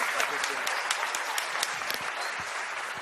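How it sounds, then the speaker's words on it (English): A crowd at a climate action assembly in Bengaluru applauds the debate participants. The clapping is dense, continuous and fairly close, with individual sharp claps standing out and a faint murmur underneath. "Can we hear a round of applause for all of these very involved participants?"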